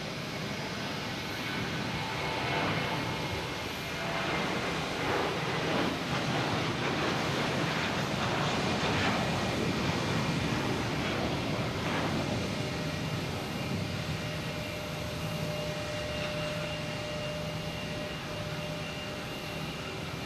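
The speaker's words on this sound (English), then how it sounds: "Next taking off is a JetBlue heading to Orlando." A JetBlue Airbus A320 taking off at Boston Logan Airport in the evening, a steady broad roar of jet engine noise holding fairly loud and even throughout with no voices.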